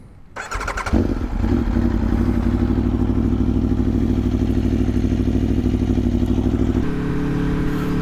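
An Aprilia Tuono V4 1100 Factory motorcycle starts rolling after a brief quiet moment, its engine quickly settling into a loud, steady, deep V4 drone that holds close and constant before shifting tone near the end.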